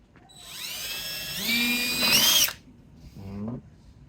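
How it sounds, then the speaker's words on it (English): A power drill whines up in pitch, holds a steady high-pitched drilling note while pre-drilling wood for a planter box, then cuts off; a short second burst of the motor follows. "Now you want to pre-drill so you don't crack the wood."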